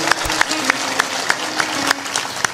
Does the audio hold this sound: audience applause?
yes